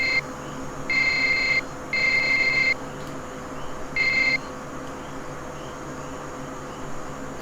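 Three electronic beeps in the video game Contra sound in a steady high tone, the first two longer and the third short, over a low hum.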